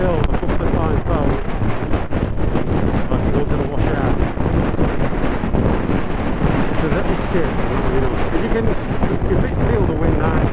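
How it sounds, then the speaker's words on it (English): Strong crosswind buffets the microphone of a rider on a Suzuki GSX-S GT motorcycle fitted with a screen deflector, a loud, constant roaring rumble that never lets up, with a voice speaking underneath the blast. "If it's still the wind now, it's blowing sideways."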